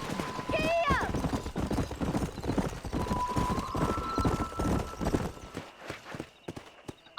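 Horse hooves clip-clop steadily while riding in Red Dead Redemption, with a horse whinny near the start, game music and background sound mixed in, fading out near the end.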